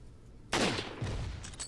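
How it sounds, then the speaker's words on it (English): A gunshot from the Resident Evil 4 video game: one sharp, loud blast that cuts in abruptly and then rings out into a decaying rumble and a scattered noisy tail. "and I can shoot him in the head"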